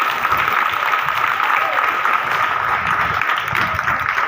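Audience at an Independence Day programme at a Karnataka Public School in Udayapura village applauds its teachers, dense steady clapping from a crowd that runs unbroken at full strength.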